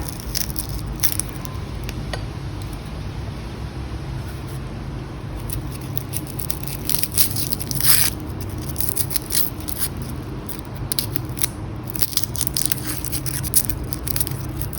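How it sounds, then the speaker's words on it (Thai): Fresh shallots and garlic are peeled by hand for a Thai seafood dipping sauce: close, crisp crackles and papery snaps of skins tearing, in irregular bursts over a low steady background, with no speech. "นำหอมแดงมาปอกเปลือก"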